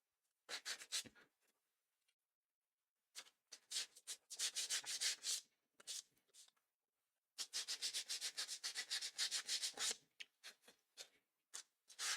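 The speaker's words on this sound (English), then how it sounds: "Maybe hit the edges of it with a little bit of sandpaper." Sandpaper rubbed along the edges of cereal-box board for bookbinding: bursts of dry, scratchy strokes, a short pass, then a longer steady run of quick rhythmic rubs and a few final swipes, close and alone in a quiet room.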